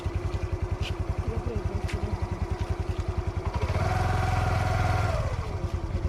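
Two-wheeler ridden by a learner, its engine chugging in a fast regular idle pulse, then revving up louder and higher for about a second before settling back.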